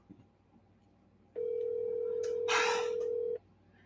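A single steady phone ringback tone sounds for about two seconds while waiting for an answer, with a brief burst of noise over it, then cuts off into quiet.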